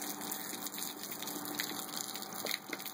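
Water pours steadily over someone's head during a water flipping challenge, a continuous splashing gush with small bursts, close and fairly loud throughout.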